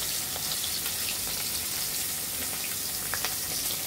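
Rohu fish pieces sizzle in hot oil in a pan, a steady bright crackling hiss with small scattered pops, moderately loud and close, with no voices over it.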